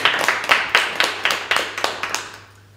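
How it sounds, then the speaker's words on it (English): Small audience at a literature festival poetry reading claps for a poet, a sparse run of about ten distinct hand claps at a steady rhythm, fading out at the end. "Round of applause, please."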